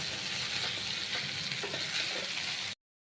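Bottle gourd greens stirred and mixed in a hot pan, giving a steady, close sizzle with soft scraping, then an abrupt cutoff into silence.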